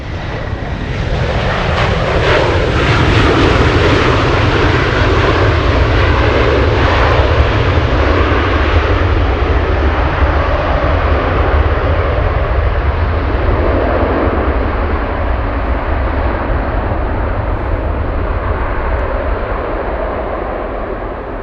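Alaska Airlines jet arriving from Seattle at Anchorage airport, a loud, steady engine roar that holds for the whole stretch with gusty wind rumble underneath and a slowly falling pitch as it passes.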